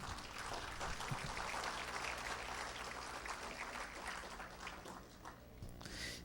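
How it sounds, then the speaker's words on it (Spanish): Faint, steady applause from an audience at a textile industry talk, a dense wash of clapping that holds evenly throughout with slight dips near the end. "Lo recibimos con un fuerte aplauso"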